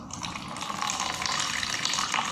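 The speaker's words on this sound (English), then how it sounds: "So now I'm going to measure my water, which I quickly pour it" Water poured steadily into a container set on a kitchen measuring scale, a continuous close splashing trickle that swells slightly and keeps running for the whole stretch, with no talk over it.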